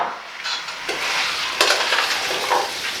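A pot of beef stew with vegetables and dough is stirred, giving a close, loud wet scrape and sizzle with a few utensil knocks over about three seconds, with no talking.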